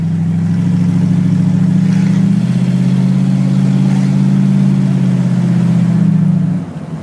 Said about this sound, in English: because it's got a shortened exhaust system that exits in front of the rear axle, it does have a good throaty sound